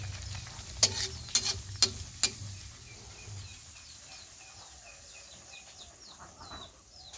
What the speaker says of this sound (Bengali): এই তো কড়াই তেল দিয়ে আমি পরোটাগুলোকে সুন্দর করে ভেজে নেব।